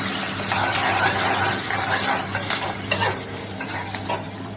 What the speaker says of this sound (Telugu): ఇవి మంచిగా ఫ్రై చేసుకోవాలండి.